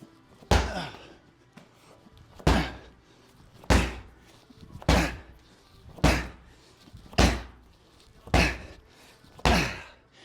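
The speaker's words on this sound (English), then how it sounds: "Med ball slams just to get our heart rate up a little bit" Medicine balls slammed to the floor during a workout warm-up: about eight heavy, close thuds land at a steady pace roughly every second and a half, each with a short boom, and no one speaks.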